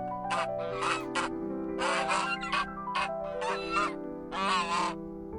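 A goose honks in alarm beside a pool, a series of loud, harsh calls in short bursts separated by brief pauses, close and clear.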